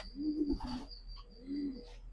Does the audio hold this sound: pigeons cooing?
yes